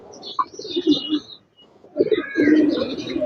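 A male Babra racing pigeon that flies 25 km tournaments coos in low, soft murmuring phrases up close, with a quiet pause in the middle before the cooing resumes and fades out at the end.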